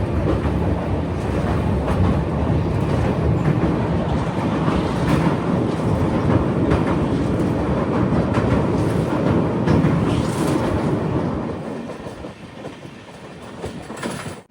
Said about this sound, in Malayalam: രണ്ടേ 45 ട്രെയിൻ ഇപ്പോൾ ജൽപൈഗുഡി റോഡ് സ്റ്റേഷനിലെത്തിയേ